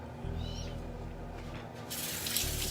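Tap water runs steadily into a bathroom sink while someone rinses their face during a morning skincare routine, with a continuous close splash that grows louder and brighter near the end.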